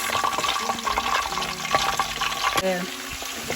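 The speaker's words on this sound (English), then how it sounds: "I'm going to start by adding my onions, my sliced onions." Sliced onions for Ghanaian Fante Fante fish stew hit a pan and sizzle steadily, with stirring and clattering close by throughout the short stretch.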